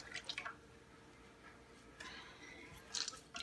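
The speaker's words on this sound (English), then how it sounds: "squeeze all that water out." Grated zucchini is squeezed by hand to press out its water, giving faint, quiet squelches and drips in a few short bursts.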